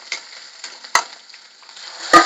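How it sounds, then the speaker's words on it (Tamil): Shallots sautéing in a pan for kara kuzhambu, a soft sizzle in short bursts with a few sharper scrapes and stirs, close and moderately loud, no voices. "வெங்காயம் போட்டு வதக்கிட்டு வெங்காயம் வதங்கின உடனே தக்காளி சேர்த்துக்கலாம்."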